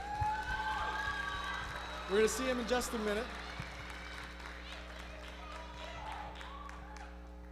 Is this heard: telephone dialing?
no